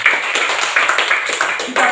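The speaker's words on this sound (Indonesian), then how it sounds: "Mari kita tepuk tangan." Children clap their hands together in a classroom, a dense, steady patter of many small hands that carries on for about two seconds with little variation.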